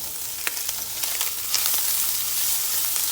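Bacon, spam, cabbage and onion fry together in a pan with a bright, continuous sizzle, while light stirring adds small crackles and taps close by.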